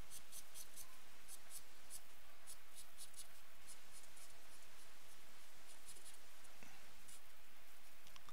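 Pen or pencil strokes scratching across paper while drawing parallel lines for a comic-art sketch of Storm, a soft, steady patter of short repeated strokes, close and quiet, with no voices.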